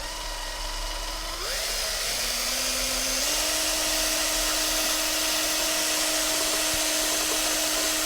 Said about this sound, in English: you get your whisk again, and you put that in, and you whisk that for another 60 seconds